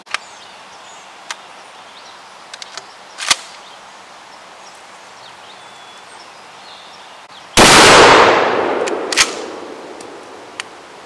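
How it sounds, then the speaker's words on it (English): Remington 870 shotgun fires one loud magnum #4 buckshot round, shot free-handed outdoors at a 50-yard target; the blast rings out with a long echoing decay after a few faint clicks and handling noises. "we're going to shoot it free-handed from 50 yards at a 12-inch circle"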